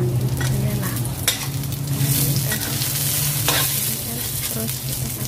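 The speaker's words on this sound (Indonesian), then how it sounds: "Kita ditumis-tumis dulu ya, biar sedikit bau wangi gitu ya lah." Spices stir-fried in a small amount of oil in a pan while dinner is cooked, giving a steady close sizzle with scraping stirs throughout, no talking.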